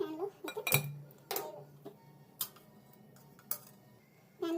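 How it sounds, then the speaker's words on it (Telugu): A metal pan set down on a lit stove while cooking chicken curry, a few sharp clanks and clinks spaced over several seconds, with faint kitchen background noise. "స్టవ్ వెలిగించి ప్యాన్ పెట్టానండి"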